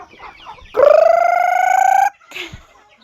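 On a provincial farm, one chicken lets out a single loud, drawn-out call lasting over a second, close by, with softer scattered clucks before and after.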